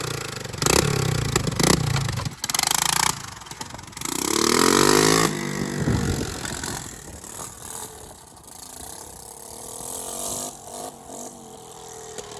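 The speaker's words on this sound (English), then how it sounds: "It's a little loud, so we gotta get a couple of muffler gaskets and fix that muffler." A 1982 Honda Big Red three-wheeler with a leaky, loud muffler revs and putters in uneven bursts, its engine rising and falling with clattery mechanical noise, quite near throughout.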